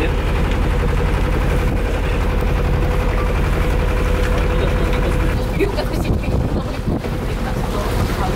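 A boat engine running with a loud, steady low-frequency drone, mixed with heavy wind buffeting and water noise throughout, while a person speaks over it.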